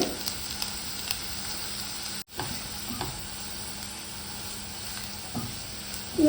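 Two medium onions, chopped very fine, fry in a pan for an egg pizza snack, giving a steady, moderate sizzle with light crackles, one brief dropout partway through, and no talking.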